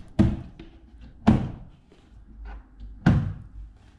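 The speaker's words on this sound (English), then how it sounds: "I'll just open up a couple of the drawers or doors for you to see." Doors of an IKEA Hemnes shoe cabinet swing open and shut, giving three solid wooden thunks at a steady spacing with lighter knocks in between, close and clear with no voices.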